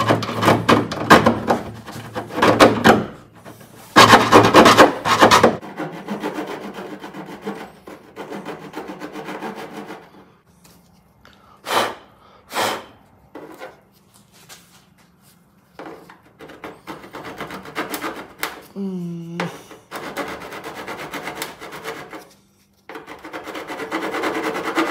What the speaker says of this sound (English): I'm going to try filing.